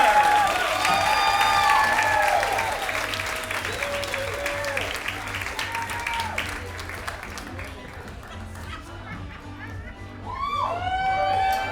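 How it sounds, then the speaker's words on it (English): A comedy bootcamp audience bursts into loud, sustained applause with cheering and whoops for the first comedian of the night, the clapping thinning slightly toward the end as a voice speaks over it. "Give him a nice round of applause, being the first comedian tonight."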